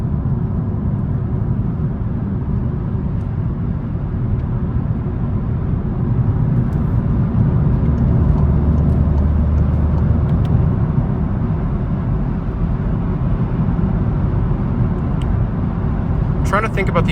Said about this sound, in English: this gives you a sense of the road noise on the highway with all those modifications